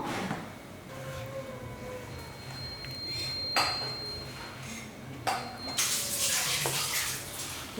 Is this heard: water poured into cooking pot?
yes